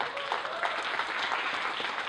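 A crowd at a poetry slam claps steadily for a couple of seconds, dense and even with no pauses.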